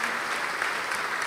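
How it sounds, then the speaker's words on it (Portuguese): Church congregation applauding during a televised Sunday service, a steady dense wash of clapping that fills the short moment without a break. "Vamos aplaudir mais, igreja."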